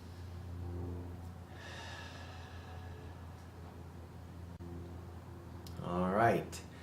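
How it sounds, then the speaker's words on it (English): Slow, deep breaths are drawn in and let out during a gentle stretching routine. Each breath is soft and near, with a fuller exhale toward the end. "Let's take a deep breath."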